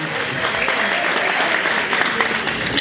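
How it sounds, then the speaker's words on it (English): An awards ceremony audience applauds steadily and loudly for nearly three seconds, a dense even wash of clapping with a few sharper claps standing out near the end. "One more round of applause for Patricia Hatcher-Jones."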